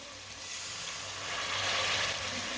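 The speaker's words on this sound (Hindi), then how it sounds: "थोड़ा सा पानी डाल लेंगे," Water is poured into hot spices in a cooking pan for aloo gobi, a rising hiss and bubbling sizzle that swells toward the end, close and steady.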